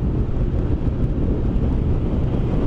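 Steady, loud rumbling buffet of strong wind battering a motorcycle-mounted microphone on a scooter ride, constant roar with no voices.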